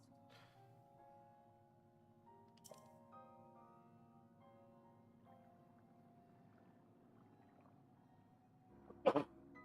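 A single sharp sneeze bursts out near the end, loud and brief, over steady electronic music from a Zelda: Breath of the Wild game session.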